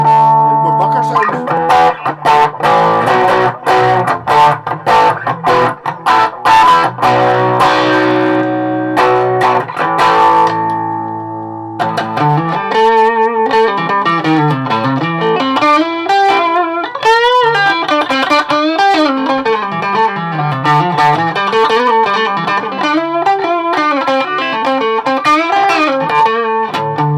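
A distorted electric guitar with humbucker tone plays loudly through a Vox VT20+ amp, first strummed chords, then a bending, wavering lead line with thick, heavy effects.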